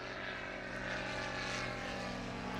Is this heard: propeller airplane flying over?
yes